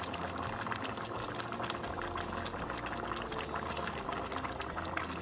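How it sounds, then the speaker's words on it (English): Nigerian bitter leaf soup simmering in a pot, a steady bubbling and gurgling that stays even and continuous throughout, fairly close and without talk. "I'm gonna allow it to simmer for a few minutes"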